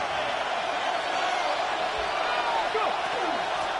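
Loud, steady roar of a packed football stadium crowd at a Raiders game, sustained noise before a 3rd-and-inches snap, with a commentator's voice faintly under it.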